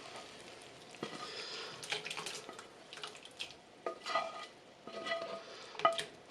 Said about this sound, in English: we're going to go ahead and add our onions in here.